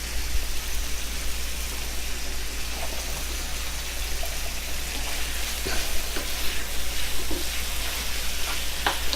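Beef sirloin stir-fries in a hot pan, giving a steady, close, continuous sizzle with occasional sharper pops and crackles and no voices over it.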